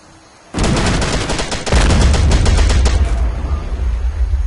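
Loud, dense volley of rifle and machine-gun fire from the WWII strategy game Men of War Assault Squad 2, erupting suddenly after a quiet moment and rattling on continuously for about three seconds before a heavy rumbling tail.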